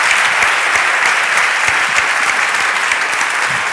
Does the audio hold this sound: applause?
yes